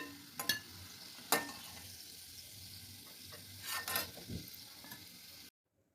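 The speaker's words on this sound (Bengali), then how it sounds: "লিট্টিটা আমার লাল লাল করে ভাজা হয়ে গেছে।" Litti frying in a pan gives off a steady close sizzle, broken by a few sharp utensil clatters, before the sound cuts to silence near the end.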